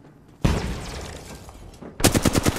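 Apex Legends gunfire: a first loud shot with a trailing echo, then after a pause a rapid burst of about six close, punchy automatic rounds.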